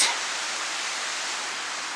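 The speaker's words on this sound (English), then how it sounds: "there's a freaking waterfall" A waterfall somewhere in Southern Europe roars in a steady, dense hiss of falling water, loud and unbroken throughout with no voices.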